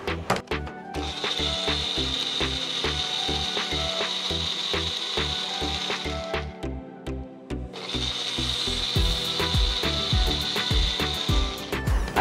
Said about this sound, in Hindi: मिर्च डालने के बाद हम इसे दोबारा ग्राइंड करेंगे।